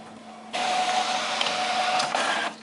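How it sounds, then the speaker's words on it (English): A printer feeds and prints on a sticky note, a close mechanical whir that starts abruptly, runs steadily for about two seconds with small clicks, then stops. "I'm going to print it through again."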